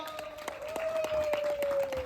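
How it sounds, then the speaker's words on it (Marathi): A group applauds the organisers at a birthday celebration at a resort, a short burst of scattered clapping over a sustained tone. "आजच्या कार्यक्रमाचे आयोजक बंटी कांबळी आणि रोहित कडू यांच्यासाठी जोरदार टाळ्या वाजवूया"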